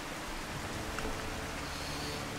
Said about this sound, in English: When it rains here, it never stops raining.